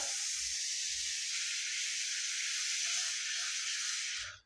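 Butter sizzles in a hot pan while butter egg masala for pav is being cooked, a loud, steady broadband hiss held for several seconds before cutting off abruptly, with a few faint low knocks underneath.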